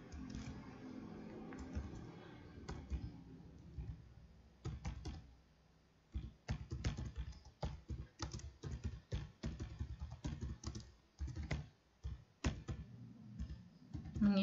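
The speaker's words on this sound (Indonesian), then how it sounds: "Misalkan kita ketikkan LKPD Bahasa Indonesia 7." Quiet, close computer keyboard typing clatters in irregular bursts of keystrokes, with a brief pause partway through and no voices over it.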